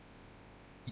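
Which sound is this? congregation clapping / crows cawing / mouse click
mouse click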